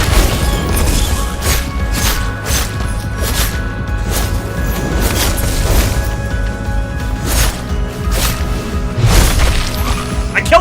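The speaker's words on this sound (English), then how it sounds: "I killed it with the dodge explosion." Dodge explosion finishing off an enemy during combat in the Dungeons of Hinterberg video game, set among a dense, continuous mix of game impacts, crashes and whooshing hits with steady loudness.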